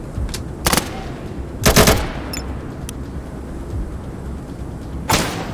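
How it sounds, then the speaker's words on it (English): Submachine gun fire from the video game Atom RPG Trudograd comes in three short, loud bursts spread across the clip, with quieter game ambience between them and no talking. "Someone is in the toilet, in the outhouse. And he has an SMG."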